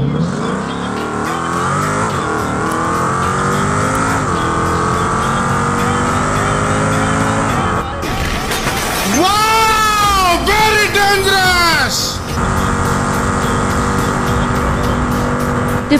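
A Land Rover Defender drives an uphill climb while escaping a flood in a video game. Its engine drones steadily and loudly and rises in pitch, with a brief warbling, voice-like passage midway.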